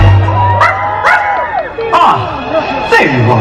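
A dog barks a few times during a Disney Halloween fireworks show, the yips rising over a busy crowd and a voice speaking through the park sound system.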